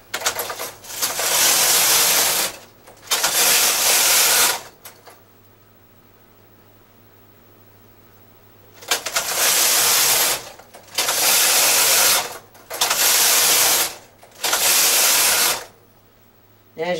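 Knitting machine carriage swept back and forth across rows while knitting a measuring swatch: five loud, broadband whooshing passes of about one to two seconds each, with a long quiet pause after the second pass.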